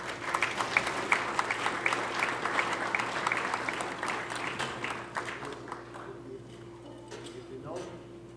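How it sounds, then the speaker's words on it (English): Round of applause from the audience at a church ice cream social, dense and steady clapping that fades out over several seconds, with some voices audible in the crowd. "Give them a round of applause."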